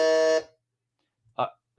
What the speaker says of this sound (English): let's do a buzzer check for everybody